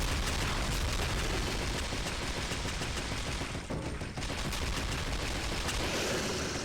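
Sustained rapid gunfire against a boss in the video game Heaven Dust 2: a dense, continuous barrage of loud shots with a brief dip in the middle, no voices.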